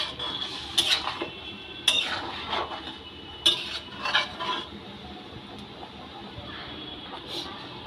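A spoon stirring mustard, poppy seed and nut paste into shukto in a metal pan, with several sharp clinks and scrapes in the first half that thin out into quiet shuffling later.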